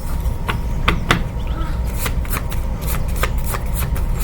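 Tarot cards are shuffled up close over a steady background rumble, with repeated crisp riffling flicks in an uneven rhythm throughout.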